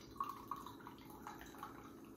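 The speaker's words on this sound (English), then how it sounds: "So I'm gonna pour it out into my glass here for you." Ghost Energy Strawberry Splash drink poured from a can into a glass, a faint, soft liquid trickle with a couple of light splashy drips early on, alone and close by.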